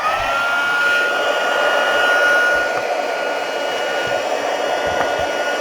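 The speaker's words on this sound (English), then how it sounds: "Now I'm going to get my trusty hot heating tool." A heat gun blows steadily to dry glue on a handmade card, a constant whirring hiss with no speech, moderately loud and unchanging throughout.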